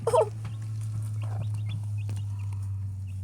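A chicken gives a few short clucks at the start, near and fairly loud, then quieter faint clucking over a constant low electrical hum, likely from an incubator, around newly hatched ducklings.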